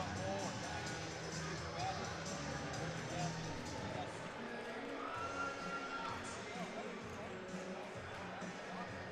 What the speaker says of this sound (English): listen to this Akins Ford Arena crowd